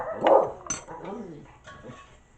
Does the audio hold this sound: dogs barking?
yes